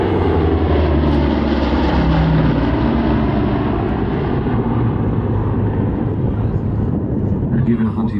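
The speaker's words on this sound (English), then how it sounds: "Given Hunty bringing the Neptune in, let's see how well he goes on this landing." A Lockheed Neptune comes in to land at an airshow, its piston engines giving a loud, steady low drone throughout. An announcer talks over the engine noise.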